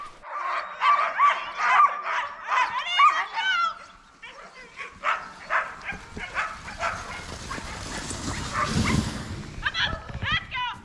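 Sled dogs at a Minnesota kennel bark and yip in rapid, excited bursts, loud and close, before settling into scattered whimpers as people talk nearby.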